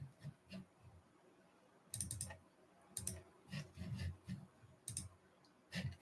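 A computer mouse clicks quietly in short bursts and double clicks, scattered irregularly across the stretch with no voices over them.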